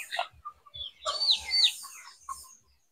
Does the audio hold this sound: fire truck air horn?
no